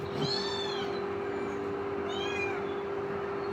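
A cat meows twice, two short, clear calls about two seconds apart over a steady background hum.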